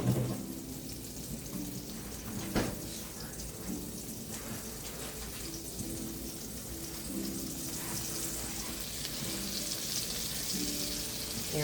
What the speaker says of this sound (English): Just let it fry.